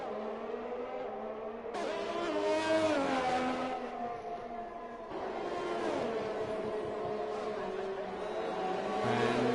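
Race cars in a video game scream past at high revs, their engines whining and shifting pitch as one car overtakes another, loud and continuous throughout.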